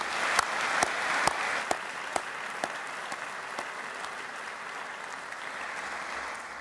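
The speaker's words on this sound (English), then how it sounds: "Please join me in giving another round of applause to Alex and Isaiah" An audience claps at a university investiture ceremony, opening with a few sharp, distinct hand claps near the front before thinning into softer, moderately quiet clapping spread through the hall.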